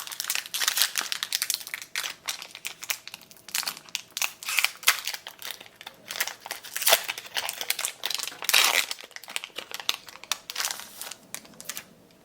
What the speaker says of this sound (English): So let's open this booster pack and see what we get.